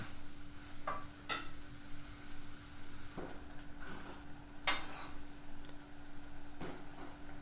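Tomato and chili paste for nam prik ong simmering in a pan, a quiet, steady low bubbling under a handful of sharper spoon clinks and scrapes, faint and close.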